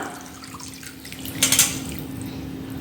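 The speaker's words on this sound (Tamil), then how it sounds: "இந்த டைமில் நம்ம புளித்தண்ணி ஆட் பண்ண போகிறோம்" Tamarind water is poured into a pot of traditional village-style curry, a short splashing burst of liquid over a low steady hum.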